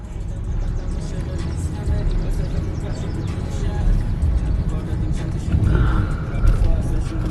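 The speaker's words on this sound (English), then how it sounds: "But right now the car is driving fine." A BMW 750L driving on the road, steady low engine and road rumble from inside the cabin throughout, with a brief higher tone near the end.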